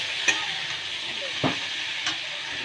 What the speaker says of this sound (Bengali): দিয়ে আবার 5 মিনিট আরও সাঁতলিয়ে নেব